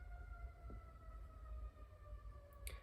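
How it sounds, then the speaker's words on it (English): City emergency sirens wail faintly in the background, a steady distant tone running alone through the whole stretch, with no voice over it. "Excuse the sirens in the background."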